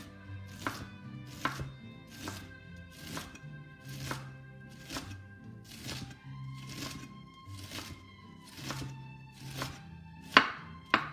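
A knife thinly slices regular cabbage on a cutting board, roughly a dozen crisp, evenly spaced chops close up over faint background music, with no talking.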